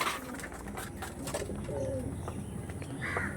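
Deep purple Andhra pigeons coo in soft, repeated low throbs, mixed into a steady background of flock rustle and distant noise.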